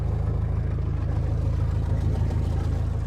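A boat engine runs steadily with its exhaust going, a close, continuous low throbbing rumble with a regular pulse that holds level throughout, with no talking.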